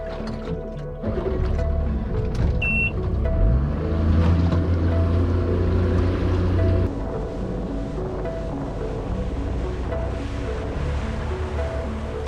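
Small boat's outboard motor driving across open water near North West Island, a loud steady drone with wind buffeting the microphone, the engine note dropping partway through as the boat eases off.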